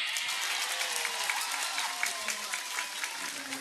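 A crowd applauding steadily, dense clapping with a few voices mixed in, continuous throughout.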